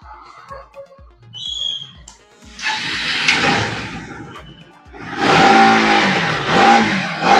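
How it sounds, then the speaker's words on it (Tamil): A 2019 NS 200 motorcycle with the PS4 engine at a secondhand bike lot in Chennai, heard starting and revving in two loud, rising bursts after an idling, ticking stretch, the second rev stronger and sustained. "இந்த வண்டி கொஞ்சம் ஸ்டார்ட் பண்ணி காட்ட முடியுமா?"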